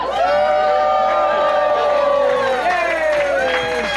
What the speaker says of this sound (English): Another round of applause, please, for Muggy.